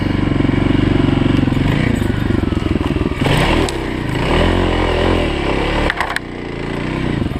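Dual sport motorcycle on bald tires climbing a hill in first gear, a loud close engine labouring and revving, with clattering and scraping from the rough ground.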